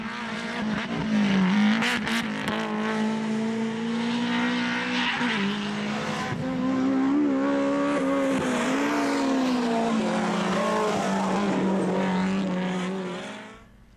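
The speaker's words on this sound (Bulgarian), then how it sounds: "Николов с номер 18 от бургаския клуб Мирони с BMW M3 изпревари Ивайло Петков с номер 14 от АСК Петков Моторспорт с Митсубиши Лансер." A BMW M3 and a Mitsubishi Lancer race around the Dracon Circuit, their engines roaring loudly and continuously, the pitch rising and falling as the cars shift and pass, with brief tire squeal.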